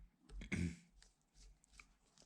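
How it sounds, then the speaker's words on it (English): A short, gravelly throat clearing close by, followed by a few faint rustles and soft noises in a quiet space. "Sorry about me clearing my throat"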